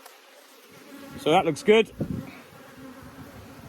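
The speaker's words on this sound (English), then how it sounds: "These bees do not appreciate being strimmed around." Disturbed honeybees buzz around hives at an apiary after strimming nearby, a steady insect drone beneath a man's brief spoken remark.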